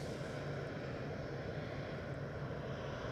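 An EasyJet Airbus A319-100 bound for London Gatwick at Edinburgh Airport produces a faint, steady, even engine drone from a distance, unbroken and without voices.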